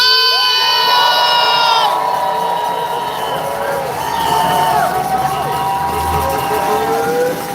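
A large crowd at a pro-Palestine protest rally cheers and whoops loudly, with shrill shouts and whistles rising over a sustained roar of voices.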